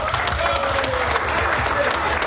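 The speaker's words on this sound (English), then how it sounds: "Let's give a round of applause for ourselves." Audience applause fills an awards ceremony hall, steady dense clapping throughout with a voice sounding over it.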